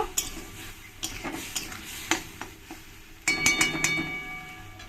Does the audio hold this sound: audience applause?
no